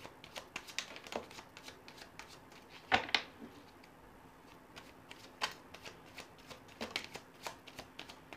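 Tarot cards being shuffled by hand: soft, papery riffles and slides repeat in uneven bursts, with one sharper snap of the deck, all quiet and close in a still room.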